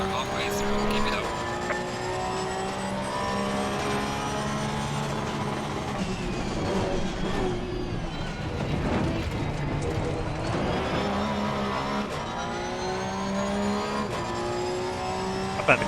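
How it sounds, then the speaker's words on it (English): A racing car engine in Assetto Corsa Competizione screams at high revs, banging off the limiter, with tire squeal, steady and loud throughout, the pitch rising and dropping as it shifts. "the car sounds absolutely awesome, banging off the limiter there"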